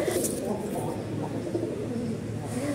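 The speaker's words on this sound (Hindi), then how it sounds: "मम्मी के किचन में किस तरह से कबूतर आते हैं और अपने आप से यहाँ पे आके खाना खाते हैं" Pigeons coo in a home kitchen, a low murmuring call running steadily through the whole stretch under a continuous background hum, with a faint voice in the mix.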